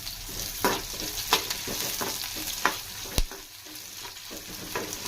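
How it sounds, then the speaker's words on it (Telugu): Onion and curry leaves fry in oil with mustard seeds, a steady close sizzle broken by repeated scraping stirs and one sharp knock of a utensil against the pan. "ఆనియన్ మొత్తం వేసేస్తున్నాను."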